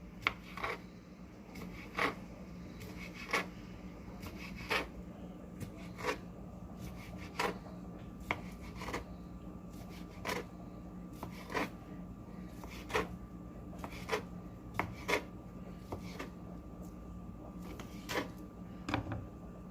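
A knife chopping food into quarter-inch pieces on a cutting board, with sharp, evenly spaced taps repeating steadily and close by over a faint background hum.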